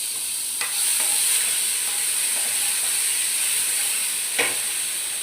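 Spices for a brown chickpea curry fry in a pan over a lowered gas flame, making a constant close hiss and sizzle broken by a couple of brief stirring clicks.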